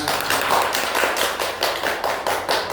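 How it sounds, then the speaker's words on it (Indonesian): Classmates give steady applause after a drama performance in a classroom, a dense, even patter of many hands clapping together throughout, with no voices over it. "Tepuk tangan kepada teman-teman yang sudah melakukan drama."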